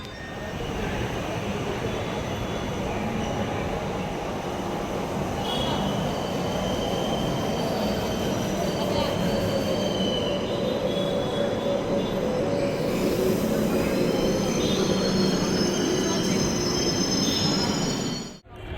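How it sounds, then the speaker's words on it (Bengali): A Kolkata Metro train running between Netaji Sadan and Rabindra Sadan, a loud, sustained rumble inside the carriage with high-pitched wheel squeal rising and falling over it, ending abruptly. "এখান থেকে আমরা মেট্রোতে উঠব"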